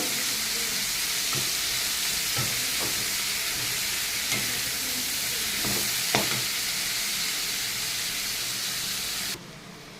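Lentil dumplings (dal bori) and potato pieces fry in oil in a pan, making a steady, dense sizzle and hiss with occasional stirring knocks before it drops away abruptly at the end.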